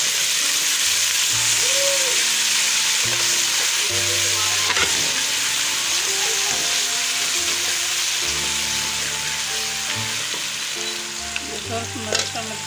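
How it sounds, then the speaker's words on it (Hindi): Tomatoes hit hot oil in a pan for a curry of chana dal and potato, giving a dense, continuous loud sizzle with occasional stirring scrapes and tonal clinks, no talking. "ये टमाटर शामिल कर रही हूँ"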